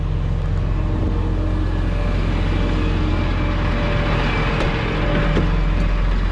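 A U-Haul truck rolls forward across a soft backyard toward gravel, its engine a steady, loud low rumble close by with no talking.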